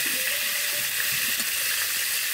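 Cauliflower, potato and pumpkin frying in oil in a pan, a steady, loud sizzle and hiss that holds evenly throughout with no voices.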